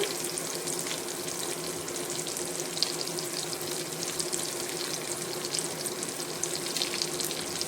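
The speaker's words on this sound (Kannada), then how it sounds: "ಇದು ಫ್ರೈ ಆಗ್ತಾ ಇದೆ" Rava-coated fish frying in oil in a pan, Karavali style, with a steady continuous sizzle and hiss, moderately loud and even throughout, with no talking.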